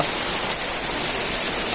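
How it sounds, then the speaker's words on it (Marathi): Heavy rain pours down at night in Ratnagiri, a steady, dense hiss of downpour that stays loud and unbroken throughout, with no voices over it. "खूप जोरात पडतो पाऊस"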